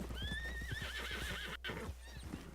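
In Red Dead Redemption 2, a horse tramples over a turkey, with a loud wavering whinny over a quick run of clip-clopping hoofbeats and a brief dropout partway through.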